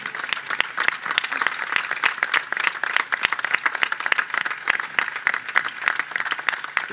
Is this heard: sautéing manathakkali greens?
no